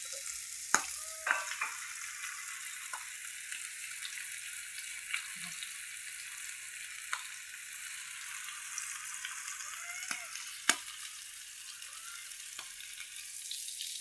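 Fish frying Malvani style in a pan: a steady bright sizzle throughout, with occasional sharp pops and crackles and a few light clinks, close and moderately loud, with no voices.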